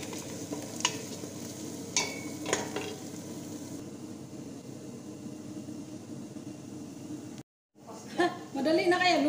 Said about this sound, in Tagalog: Habang nagigisa naman tayo ng sibuyas